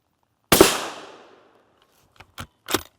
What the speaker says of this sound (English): We have a Savage 110 tactical with a 24-inch barrel. So M2 AP first.